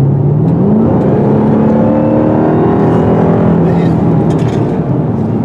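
A 2021 Dodge Durango SRT Hellcat with a 700-horsepower engine accelerates along a curved road, its steady engine drone rising and falling in pitch with shifting harmonics, loud and continuous from the cabin throughout.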